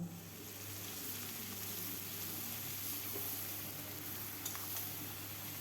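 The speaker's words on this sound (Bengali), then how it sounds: "কাঁচা লঙ্কা পেঁয়াজটাও কিছুক্ষণ ভেজে নেব।" Onion, green chili and ash gourd fry in a pan with a dense, continuous sizzle that holds steady throughout, plus a faint clink or two near the end.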